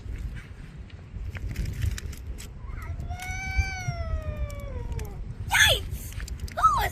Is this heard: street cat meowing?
yes